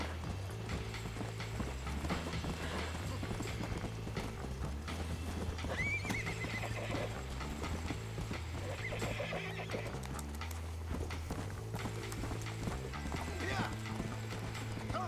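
A horse is ridden in Red Dead Redemption: steady, rhythmic hoofbeat clip-clop at a run, with occasional neighs and snorts over a low game soundtrack, alongside a speaking voice.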